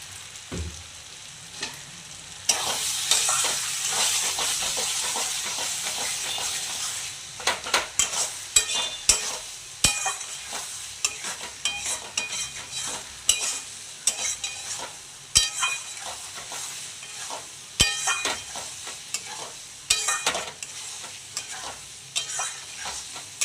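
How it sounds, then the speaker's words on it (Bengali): Fish head curry masala for muri ghonto is sautéed and stirred in a pan: a loud sizzle at first, then a long run of repeated scraping strokes and clicks from the spoon. "একটু সময় নিয়ে ভালো করে কষাতে হবে।"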